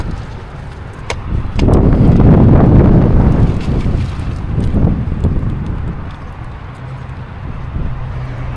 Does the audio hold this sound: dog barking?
no